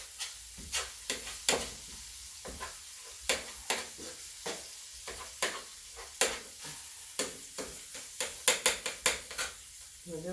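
Ground beef and pork simmering and sizzling in a pan, stirred with a utensil that scrapes and clicks in quick irregular bursts over a constant fry hiss, no talking.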